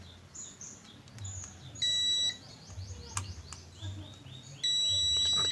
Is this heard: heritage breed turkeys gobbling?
no